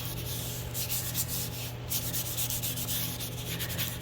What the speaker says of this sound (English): I am just giving these a very light sand because everything is in excellent condition.